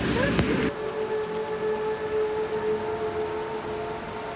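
Steady rain falls on the Kalalau Trail while hikers descend into Hanakoa Valley in Kauai. The wash is broad and constant, with a brief louder rustle at the start.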